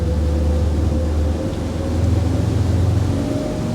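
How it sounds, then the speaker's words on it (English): Twin diesel engines with IPS 650 drives on a Bluegame BGF45 foiling sport catamaran throttle up, a steady loud low drone whose pitch climbs partway through as the revs rise, with no talking. "So as always, these engines take a little bit of time to get going."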